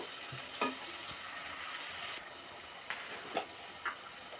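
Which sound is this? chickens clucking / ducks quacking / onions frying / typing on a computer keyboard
onions frying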